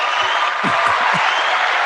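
A round of applause for a departing co-host heading to a Cosmopolitan venue in Clayton County fills a short burst of steady clapping, with a few low voiced bursts under it.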